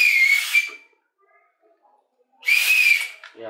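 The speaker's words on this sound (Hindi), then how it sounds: "नेक्स्ट है मेरे पास ये एक सीटी निकली है हमें" A small plastic toy whistle from a Kinder Joy surprise egg is blown twice, two shrill, steady blasts close by separated by a pause of near silence.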